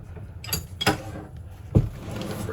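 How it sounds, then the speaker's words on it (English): A socket wrench clicks and clanks against a nut inside a Big Muff guitar effects pedal, giving a few sharp metallic clinks and a short ratcheting scrape, close and alone. "Gonna use a real socket then"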